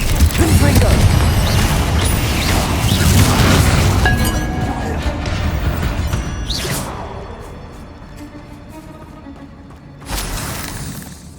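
In the Hogwarts Legacy video game, a Confringo spell goes off in a loud, close, booming burst with crashing, shattering debris. The blast fades over several seconds and a second smaller impact follows.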